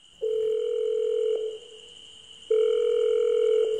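Two long steady telephone tones, like a ringback or dial tone, each lasting about a second, separated by a quieter gap. It is clean and fairly loud, with no voices, and it marks a phone call being placed in a Bengali detective audio story.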